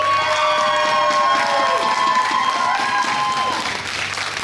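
Audience applause at the Miss Fashion 2017 finale as a first runner-up is announced, broadband clapping filling a hall, steady and loud throughout with cheering and tonal music layered over it, easing slightly near the end.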